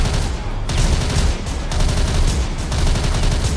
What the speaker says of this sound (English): as the National Guard opened fire,